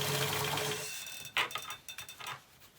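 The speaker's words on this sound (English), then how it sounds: "And the squeaking is the pedal of my sewing machine." An old sewing machine with a squeaking foot pedal stitches through a pinned seam of a scrubs hat, a steady mechanical whir that stops, followed by several sharp irregular squeaks and clicks, close and moderately quiet.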